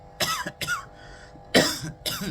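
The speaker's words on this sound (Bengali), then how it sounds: "সরি, খুব কাশি হয়েছে" A person with a bad cough, seated outdoors on a cold morning while tending orchids, coughs in several harsh bursts: two close together, a pause, then two more, loud and near with no talk.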